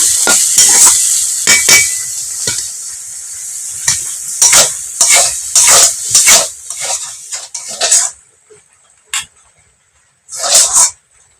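Sliced ridge gourd frying in a pan is stirred with a metal utensil, giving repeated close scrapes and clinks in irregular bursts, with quiet gaps and a few final knocks toward the end.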